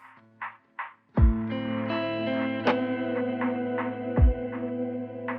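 A low-level delay with high feedback feeding into a reverb, rendering a sustained reverberant chord pad. Short plucked notes lead into two deep struck hits, and each repeat smears into a long, shimmering tail that keeps ringing throughout.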